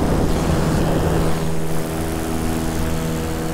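Electric paramotor propeller droning steadily in flight at about 300 feet, a constant loud whirring hum with airflow noise and no talking.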